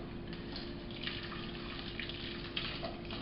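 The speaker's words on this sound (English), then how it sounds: "and then just cover it with some hot water." Hot water runs steadily into a cooking pot over lamb bones, a faint continuous pouring hiss with small splashes throughout.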